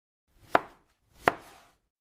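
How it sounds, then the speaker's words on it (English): Vegetables are chopped for a salad in two separate, crisp knife strikes on a cutting board, roughly three quarters of a second apart, close up, with silence around them. "I make a salad."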